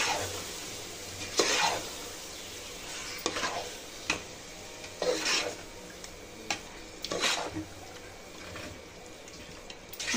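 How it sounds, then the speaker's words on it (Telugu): Marinated chicken is stirred into masala in a pan for biryani, giving several separate scraping strokes at irregular intervals over a faint, soft sizzle, quiet and close. "చికెన్ అంతా ఈ మసాలాలో బాగా కలుపుకోవాలండి."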